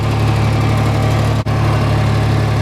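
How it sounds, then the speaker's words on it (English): A large farm tractor's diesel engine idles loud and close with a steady low rumble and vibration, cut by one brief dropout midway. "That's our biggest tractor on this farm."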